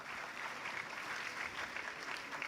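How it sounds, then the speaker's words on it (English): Conference audience giving a steady round of applause, a dense even patter of many hands clapping from a distance. "Give a great round of applause to all the things."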